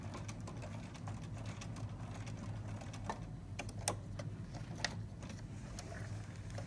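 A sewing machine stitches fabric while a drawstring backpack is sewn, a quiet run of rapid mechanical ticking and clicking with a low motor hum underneath, a few sharper clicks standing out, no talking.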